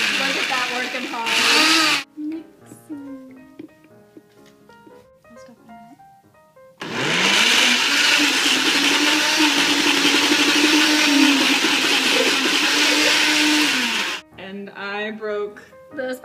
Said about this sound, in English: Now it's all ready to be blended. Let's attempt to blend it.